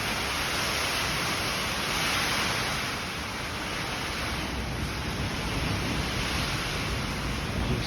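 Rain water spatters steadily against garage doors, a continuous hissing wash of droplets at an even, moderate level with a slight dip midway and no voices.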